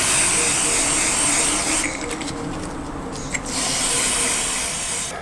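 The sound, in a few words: silicone spray being sprayed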